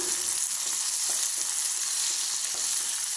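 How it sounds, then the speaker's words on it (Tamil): Onion, tomato and a handful of curry leaves sautéing in a pan give a steady, even sizzle with faint stirring scrapes, close and continuous with no voices. "ஒரு கைப்பிடி கருவேப்பிலை சேர்த்து கலந்து விட்டுறலாம்"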